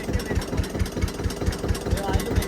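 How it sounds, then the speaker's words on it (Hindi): A 1996-model tractor engine idles close by with a steady, low rhythmic thumping, a regular pulse of beats running through the whole stretch. "ये देखा हमारे ट्रैक्टर की आवाज़। ये बाबा के 1996 का मॉडल है हमारा।"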